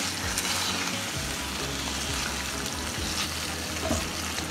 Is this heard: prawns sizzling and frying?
yes